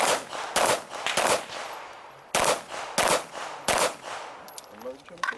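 Pistol shots at an IDPA match ring out in quick bursts: volleys of sharp, loud cracks with short pauses between strings, echoing briefly, a faint voice audible under the firing.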